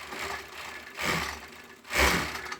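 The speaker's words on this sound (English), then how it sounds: "just overlocking the hem now" An overlocker stitches the hem of a hoodie in short bursts, its motor whirring up in three brief runs with pauses between, close and fairly loud with no talk.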